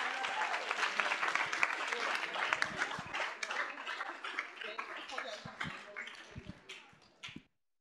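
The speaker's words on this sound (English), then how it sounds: "if we could give our interns another round of applause" A student senate meeting gives its interns a round of applause, dense clapping that starts loud and thins out into scattered claps before stopping.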